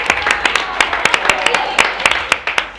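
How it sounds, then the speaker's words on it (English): A small reunion-show audience claps in a loose, uneven round, with sharp, distinct hand claps close by and spaced irregularly over a faint room murmur. "Everybody, please give her a round of applause."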